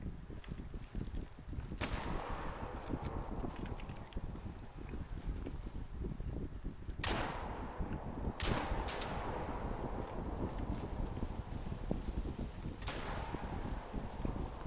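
Gunshots ring out while hunting a pig in theHunter Call of the Wild, several sharp distinct cracks spaced seconds apart over a constant windy, rushing outdoor background.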